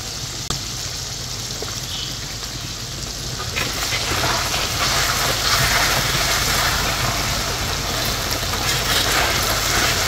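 Fish fries with cumin and garlic ginger paste in a karahi, a steady sizzling hiss that swells louder partway through, with occasional stirring clicks.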